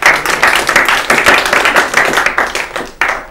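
Loud, close clapping from a studio audience on an Urdu-language quiz programme, coming in uneven bursts of rapid claps that swell and dip before fading out.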